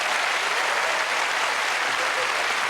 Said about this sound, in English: And I think a round of applause for our reserve, Emma.